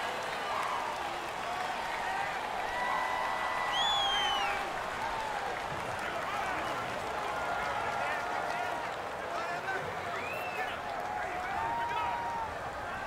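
Dense stadium crowd roar from a simulated Rams versus Patriots Super Bowl LIII football game, a steady loud wash of noise throughout, with a commentator's voice in the foreground.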